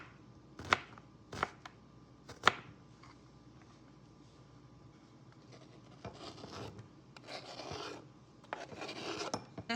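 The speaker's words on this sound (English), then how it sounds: "we're gonna take these rounds and we're gonna turn them into dices" A knife dices rounds of turkey SPAM on a cutting board, giving sharp, separate chopping taps at first and then softer, rasping scrapes and rubs, close and quiet.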